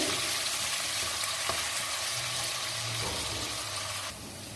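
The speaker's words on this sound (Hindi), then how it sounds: "लो फ्लेम पे मैं इसे अच्छा सा फ्राई करूंगी" Crushed onions frying gently in a pan over a low flame for aloo gobhi, a steady soft sizzle running throughout with faint stirring, close and alone without talk.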